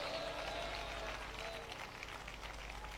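A church congregation claps and shouts in praise, a dense continuous wash of hand claps and voices filling the hall at steady loudness throughout.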